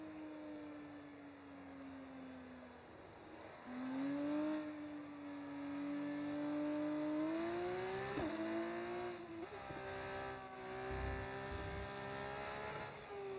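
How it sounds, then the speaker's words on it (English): Race car engine in the F1 25 video game, an F4 or F2 car, droning steadily at moderate level with rising and falling revs as it accelerates and shifts through gears. "I put myself in an F4 car."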